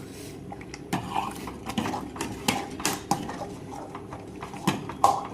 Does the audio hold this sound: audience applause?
no